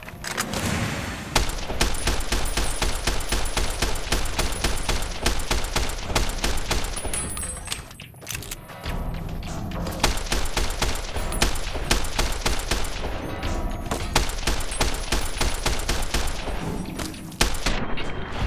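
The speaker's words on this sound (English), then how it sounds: "I have to stop walking while I shoot." Fallout New Vegas gunfight: a loud, nearly unbroken fusillade of rapid shots rattles on for most of the stretch, dropping away once briefly before resuming.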